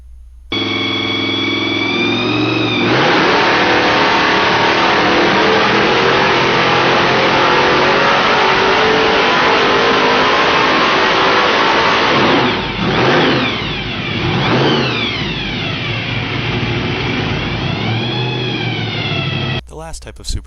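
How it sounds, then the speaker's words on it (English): Small block Ford V8 fitted with a Roots supercharger, running loud and close for most of the stretch, with sustained revving and rising and falling pitch sweeps toward the end. "This video is of a small block Ford engine with a roots blower mounted on top of it."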